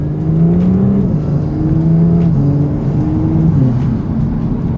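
Audi S4 fitted with a turbo inlet and carbon intake, its engine revving loudly and up close. Rising and falling engine tones run through repeated rev cycles under a steady drone, with faint turbo whoosh and no voices.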